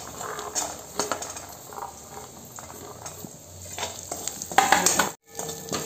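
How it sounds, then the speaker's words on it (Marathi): Green peas sauté in hot oil with turmeric, giving a steady, close sizzle as a utensil stirs and clinks against the pan in irregular strokes. "मस्त वटाणे परतून घेतले"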